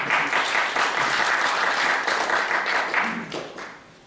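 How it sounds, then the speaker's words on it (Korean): A lecture audience welcomes a Kookmin University professor of Japanese studies with warm, steady clapping that holds evenly and then fades out near the end. "박수로 받아주시겠습니다"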